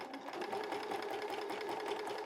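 A sewing machine stitches children's pajamas, running in a steady, fast, continuous whirring rhythm close by, with no talk over it.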